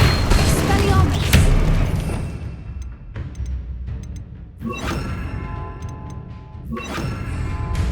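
Blasting spells such as Confringo and Bombardo in Hogwarts Legacy, heard as heavy booms and crashing impacts amid a busy, dense mix of combat noise, with talk over it.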